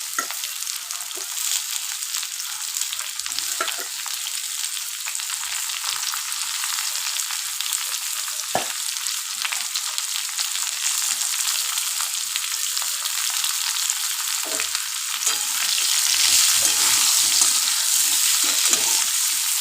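Potatoes and jackfruit seeds fry in a pan with a steady, bright sizzle throughout, punctuated by occasional soft clinks of stirring, growing a little louder toward the end; no one speaks.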